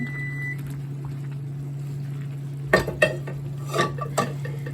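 A spoon stirs curry ingredients in a metal pot: a steady low hum underneath, then a handful of sharp clinks and scrapes clustered near the end, loud and close.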